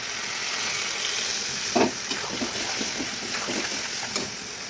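Ground spice paste hits frying potatoes and onions in a pan for a mutton curry, a steady sizzling hiss with a brief louder splutter and soft stirring, no talk.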